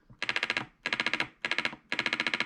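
HPA Wolverine Inferno Gen 2 airsoft ARP9 firing full auto, four short rapid bursts of sharp clicking shots in a quick rhythm, close and loud with brief gaps between bursts.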